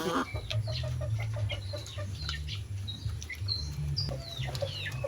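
Hens cluck repeatedly in a backyard flock at feeding time, close and steady, with chicks and other birds chirping lightly in the background and a low rumble underneath.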